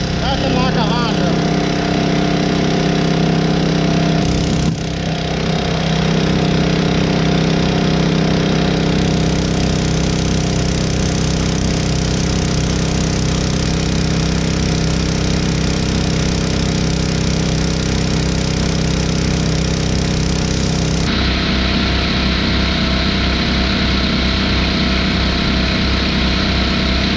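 A Honda engine drones steadily on a concrete pump during washout, a loud constant mid-pitched hum that shifts tone partway through, with a person talking over it.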